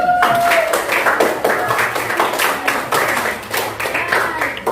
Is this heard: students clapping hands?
yes